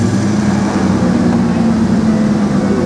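A race car engine idling steadily at a LeMons endurance race in Joliet, a loud continuous low rumble with an even tone held throughout, close by and with no speech.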